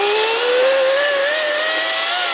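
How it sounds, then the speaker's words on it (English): An EGO CS1611 16-inch 56V battery chainsaw cuts through a small hemlock during felling, its loud, steady electric whine climbing slowly in pitch as the chain works, with no voices. "Here Ben's taking down a small hemlock with the Ego battery chainsaw."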